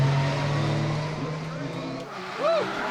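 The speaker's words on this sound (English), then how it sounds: "He scrubs the tyres" A drift car scrubs its tyres at Pukekohe Park Raceway, a sustained engine drone with a rising tyre squeal, heard under an excited commentator.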